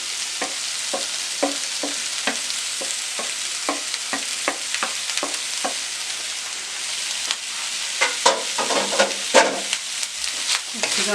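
Vegetables being stirred and fried in a pan for fried chicken rice, with repeated scraping strokes of a spoon at a steady rhythm over a constant sizzle, growing busier and louder toward the end.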